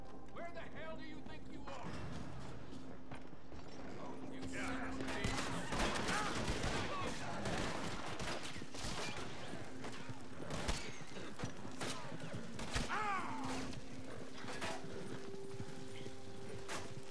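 Gunfire and galloping hooves in a Red Dead Redemption 2 game, shots and rapid clip-clop running steadily throughout under a voice talking.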